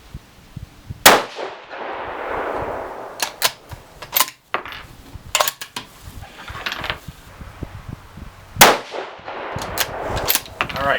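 A 6mm ARC rifle fires hunting loads in three-shot groups, giving sharp, loud, separate cracks with pauses and quieter handling clatter between them.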